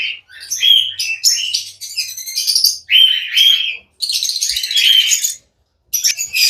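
Pet lovebirds and cockatiels at a bird farm chirp loudly and close by in dense, overlapping bursts of high tweets, with a few brief pauses between flurries.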